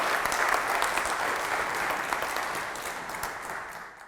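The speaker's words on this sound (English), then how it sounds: "Let's give a nice round of applause for Maestro Joe Calkins." Audience applause for Maestro Joe Calkins at a Key Chorale student recognition program: dense, steady clapping from a crowd, fairly close, slowly tapering off toward the end.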